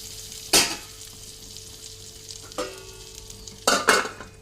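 Vegetables softening in a covered pan on the stove, stirred a little at a time: a few short, separate scraping bursts with a soft sizzle between them, close and fairly quiet.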